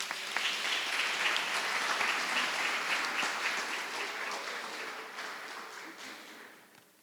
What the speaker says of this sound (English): Let's give one more round of applause to our elementary Outstanding Teachers of the Year